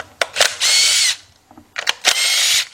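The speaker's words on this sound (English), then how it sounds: "you got my 10mm deep 3/8 drive with my cordless impact" Cordless impact wrench fitted with a 10mm deep 3/8-drive socket, working on valve cover bolts of a Lexus LS460, gives two loud sustained whirring bursts with short rattling starts, close up and with no talk.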